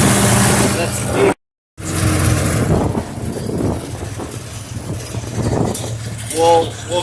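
A 1951 Farmall H tractor engine runs at full throttle in fifth gear climbing a hill, a loud, steady close-up drone with a brief dropout near the start and a voice talking over it.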